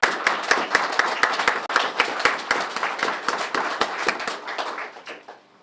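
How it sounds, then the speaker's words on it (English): A roomful of people at a police press conference applauds, a loud, close patter of many hands clapping for about five seconds before fading out. "give them another round of applause"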